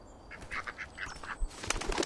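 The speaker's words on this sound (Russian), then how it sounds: "утка." A duck quacks in the Bear Simulator video game, several short nasal quacks in quick succession, moderately close, followed by brief rustling.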